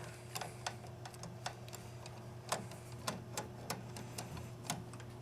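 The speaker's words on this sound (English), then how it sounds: "So we'll remove the first screw here." A screw being backed out with a magnetized long-shaft number 2 Phillips screwdriver on a DTG Viper printer's cap assembly, a series of soft, irregular clicks and ticks, close and fairly quiet, over a steady hum.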